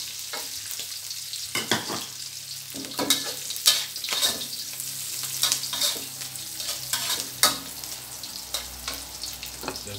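Chili, garlic and crispy pork get stir-fried in a hot wok for rice vermicelli, with steady sizzling and repeated scraping strokes of the spatula in an irregular rhythm, up close, and nobody speaking.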